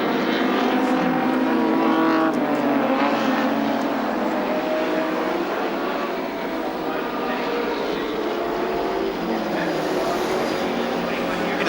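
A touring race car driven by Glenn Seaton roars down the main straight at Sandown in 1986, a loud sustained engine note that holds steady and fades slightly as it passes, with other track noise around it.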